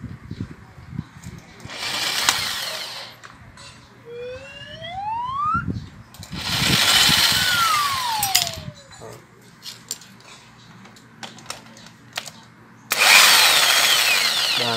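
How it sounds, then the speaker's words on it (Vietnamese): A power tool whirs in short bursts while removing screws from an electric fan, with rising and falling motor whines between pauses, metallic clinks and a person talking quietly. "Tháo luôn con ốc cái cặn phía sau luôn nữa."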